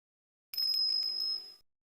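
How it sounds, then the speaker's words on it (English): A bell rings in the Ace Attorney video game, a bright ringing struck in quick repeated hits that holds for about a second and then fades, alone on an otherwise silent background. "Oh, that sound. Is that a bell?"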